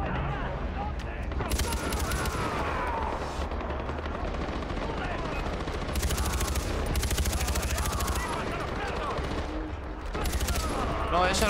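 Gunfire from the video game Far Cry 4, set in Kyrat: sustained bursts of automatic shots and explosions keep the mix loud and dense throughout.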